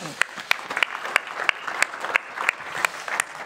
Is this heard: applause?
yes